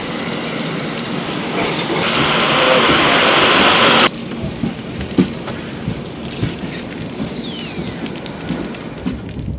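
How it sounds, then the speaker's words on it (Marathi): Heavy rain pours down at a railway station platform during a train journey, a dense, loud hiss that cuts off abruptly, leaving quieter rumbling and scattered knocks with a distant squeal. "फुल जोराचा पाऊस चालू झाला"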